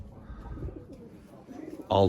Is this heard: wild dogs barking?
no